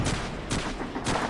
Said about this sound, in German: Schießen wir einfach mal hier in die Richtung.